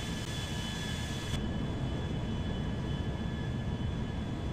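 Boeing 757 jet taxiing in the video game GTA 5, a steady broadband engine rumble and whine holding constant throughout with no talking.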